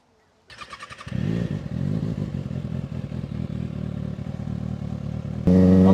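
A 2025 Kawasaki ZX-6R with a CS Racing exhaust fires up after some brief clatter, then idles and revs loudly and steadily close by, with a sharper rise at the end.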